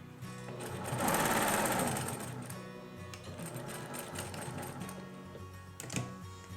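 Sewing machine stitching a patchwork seam on a Seminole-style table runner, a steady close mechanical whir with fast needle ticking that swells early, then runs on evenly before stopping.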